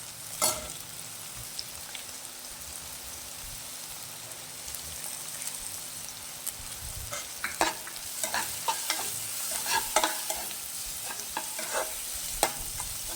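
Red chilli powder being stirred into a pan of masala Maggi noodles over low heat, a steady gentle sizzle with scraping stirs that grow busier and more frequent toward the end.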